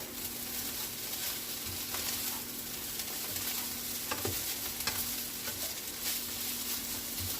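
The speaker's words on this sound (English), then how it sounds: "Let me stir this rice." Rice is stirred in a hot pot, a steady sizzle with soft scraping and occasional light knocks of the utensil, close and continuous with no voices.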